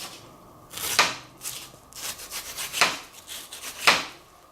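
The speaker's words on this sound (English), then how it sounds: "And now we just cut down the front, right down the face of the onion." A knife chops down through an onion on a cutting board, mincing it in three or four crisp, close strikes with quieter scraping and rustling between them, with no talking.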